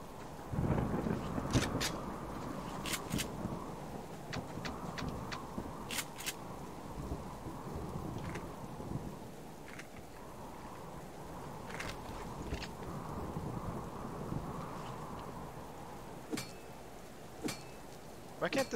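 Rain falls steadily in the Subsistence survival game during a windy storm, a soft continuous hiss with sharp crackling impacts scattered throughout and a louder rumbling burst near the start.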